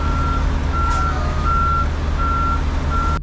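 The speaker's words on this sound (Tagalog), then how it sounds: "Inopen ko yung trailer tapos binack up ko doon sa warehouse nila" A truck trailer backing into a warehouse dock gives off evenly spaced reversing beeps, about five in a row, over a steady low diesel engine rumble, with no talking.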